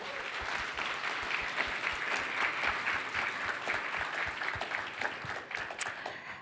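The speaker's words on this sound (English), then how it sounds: "Let's get one last round of applause." An audience at a production event gives a sustained round of applause, dense and even clapping filling the room at moderate loudness with no talk over it.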